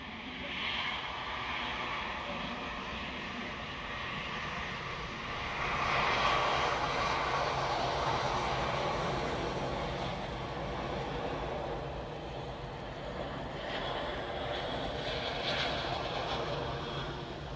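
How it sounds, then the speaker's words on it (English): An EasyJet airliner arrives at Manchester Airport during reverse operations on runway 05, its engines a steady, moderately distant roar that swells slightly and holds broad and even throughout. "Here's an EasyJet."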